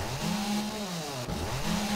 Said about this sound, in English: Grand Spartan's got a chainsaw and he's not afraid to use it